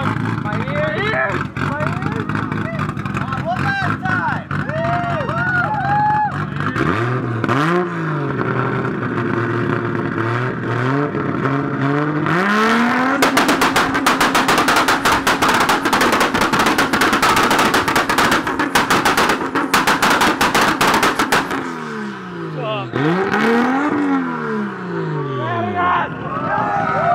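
Toyota Supra at a supercar charity meet holding a two-step launch limiter, engine revving with rapid machine-gun-like backfire pops, loud and close, with crowd chatter around it.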